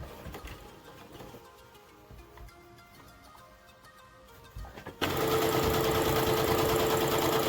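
Sewing machine backstitching a duck bill face mask, first a quieter run of stitching, then a sudden louder, steady whirring burst for the last couple of seconds.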